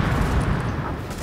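A tank blows up in a video game, heard as a steady, dense rumbling roar of explosion and battle noise that stays fairly even throughout, with no distinct separate blasts.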